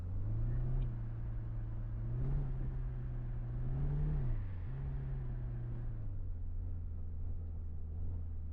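A car engine in the police video game Flashing Lights hums steadily, its pitch dipping and rising as the driver brakes hard and speeds up again, a continuous mid-level drone with no speech.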